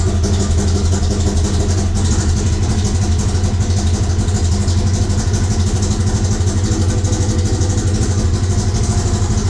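A Razor off-road vehicle engine idles after starting, a loud, steady, unbroken mechanical drone up close with no voices.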